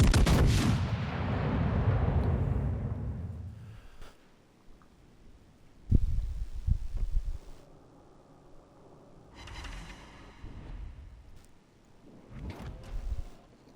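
Heavy 18-inch battleship guns on an Ohio-class ship fire in World of Warships Legends: several booming salvos with long rumbling tails, the first loudest, the others arriving a few seconds apart.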